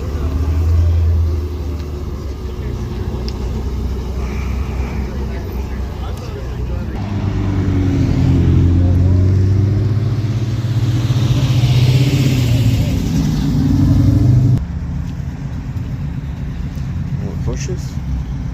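Engines idle and rumble at an early morning car show where Porsches are gathered, a deep low drone that swells louder midway before settling, with people chatting nearby throughout.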